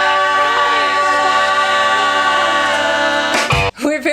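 Recorded music from a song, with sustained harmonic tones playing loudly before cutting off abruptly near the end, followed by a brief snatch of another sound.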